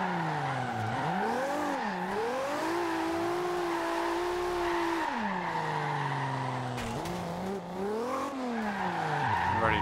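A Toyota Supra drifts in the Forza Horizon 2 racing game, its tires squealing in long wavering howls over a revving engine, loud and sustained with the pitch rising and falling.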